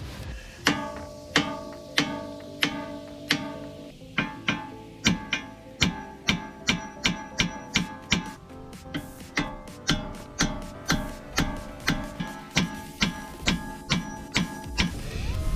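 Repeated metal hammer taps on the hub nut of an Alfa Romeo 159 front wheel during a bearing replacement, a steady run of sharp ringing strikes at close range with no talk.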